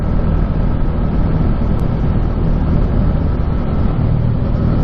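A Bajaj Dominar 400 motorcycle engine chugs along steadily in top gear, a constant loud low drone mixed with wind rush, with no talking.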